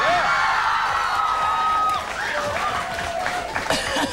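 A studio audience on an Australian morning TV show cheers and applauds, a loud wash of clapping with whoops and shouts over it that eases slightly about halfway through.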